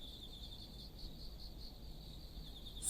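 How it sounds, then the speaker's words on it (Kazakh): A grasshopper in a 3D children's cartoon chirps in a quick, even pulsing trill, soft and steady against a faint background hush for a few seconds. "Сәлем, мен шегірткемін."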